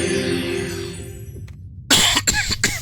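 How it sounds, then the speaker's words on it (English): A person coughs close to the microphone in a short burst of two or three harsh hacks, following a fading tone from the Wizardry 8 game and a brief moment of silence. "Sorry for the cough."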